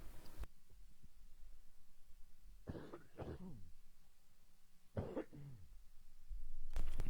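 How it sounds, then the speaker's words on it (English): A man coughs in a few harsh bursts with throat clearing over a faint steady hum, ending in a short coughing fit indoors. "A little bit of a coughing fit."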